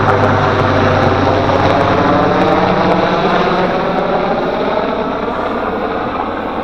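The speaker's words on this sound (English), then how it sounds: "That's a Marine AH1. They love to fly low and fast." A Marine AH1 helicopter passes low overhead with a loud, steady rotor and engine roar that holds throughout and eases only slightly at the end.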